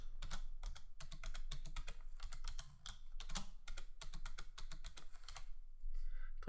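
Fingers type a password on a computer keyboard in quick, close clicks that come in bursts with brief pauses, with no talking.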